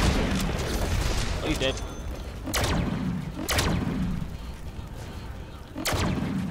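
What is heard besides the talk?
gunfire in the Deadpool video game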